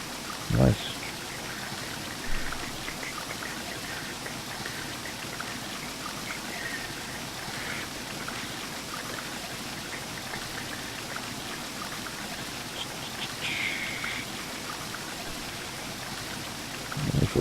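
Water pours steadily into a steam locomotive's tank in Train Simulator 2017, a continuous broadband rushing and splashing that lasts throughout at an even level.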